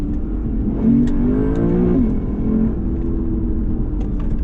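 A 2020 Lexus RC F Track Edition in sport mode revs its engine loudly up and back down once, a close rising and falling roar over a steady idle rumble, with no talk.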